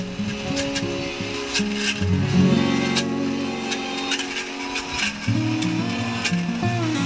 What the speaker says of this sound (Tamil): இந்த பிரண்டையும் சேர்த்து நம்ம மிக்சியில் போட்டு அரைக்க வேண்டியதாக வேலை